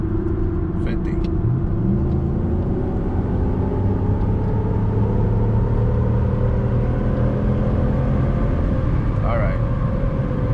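A 2010 Ram truck with Diablo tuning accelerates hard from 50 to 80 on the road, its engine droning loud and steady with rising tones under constant road rumble, heard from inside the cab.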